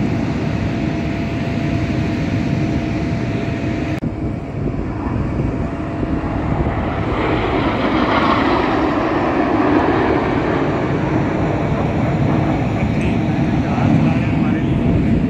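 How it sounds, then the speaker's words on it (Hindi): A Pakistani airplane at the Dubai Air Show makes a steady, loud engine roar that rumbles continuously through the whole stretch, mixed with wind buffeting the microphone and outdoor crowd noise. "ये पाकिस्तानी जहाज है"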